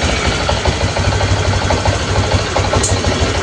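A freshly assembled Honda Vario 150 motorcycle engine runs steadily at idle, a loud close continuous rumble with a fast even pulse and no pauses.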